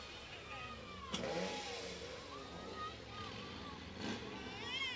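Pickup trucks drive past in a small-town Christmas parade, their engines a moderate rumble that rises and fades as each vehicle passes, heard under people talking nearby, with a couple of louder swells.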